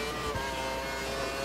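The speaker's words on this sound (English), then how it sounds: "You can hear the engine slow down a little bit." Racing car engine from the F1 2012 video game at Melbourne qualifying, a steady, fairly faint droning hum with a slight drop in revs, no voices over it.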